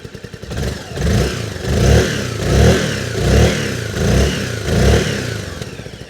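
A 2025 Lambretta G350 scooter engine revs up five times in a steady rhythm, each throttle blip rising to a loud, close roar and dropping back to idle between bursts.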